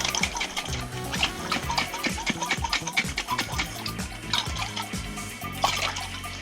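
A hard-boiled egg shaken hard in a container with some water to loosen its shell: rapid, rhythmic sloshing and knocking, close and fairly loud, continuing without pause.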